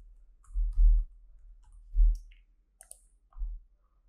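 A computer mouse gives a few dry clicks, spaced unevenly, close to the microphone and fairly soft, over a quiet low hum with no talking.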